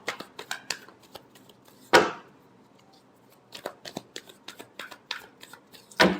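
Tarot cards shuffled by hand in a run of crisp riffling slaps and soft flicks, with two louder bursts of cards snapping together, close and alone with no talking.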